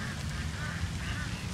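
Ducks quack faintly at a historic park's duck pond, blended into a steady wash of outdoor background noise.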